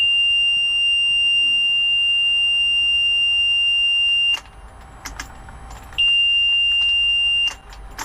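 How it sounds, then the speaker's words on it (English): Electronic beeping from a Mercury 300 outboard engine's control system, a steady high tone holding for several seconds, cutting out, then returning briefly, with small clicks and handling noises in between. "I get the beep noise, but the engine won't start"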